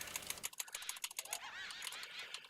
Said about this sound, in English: You'll probably hear a little bit of keyboard clicking in the background.